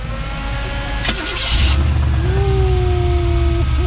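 A slammed GMC pickup truck at an outdoor classic car meet fires up and settles into a choppy, lopeing cam idle, loud and close, with a steady rumbling drone and no talking.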